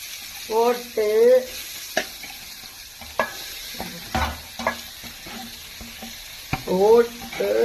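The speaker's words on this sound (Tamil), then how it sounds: "கிண்டி கொடுக்கணும், முட்டைகோச கிண்டி கொடுக்கணும்" Cabbage frying in coconut oil in a pan, stirred in bursts with scraping strokes over a steady low sizzle, with short pauses between.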